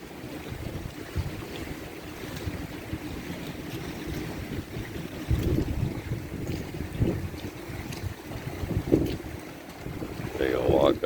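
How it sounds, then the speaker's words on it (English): Strong wind of about 30 mph gusts across the deck of a 1965 Burger motor yacht, a rough buffeting rumble with surging gusts and occasional water slaps, with speech present in the clip. "Getting about 30-mile-an-hour winds here."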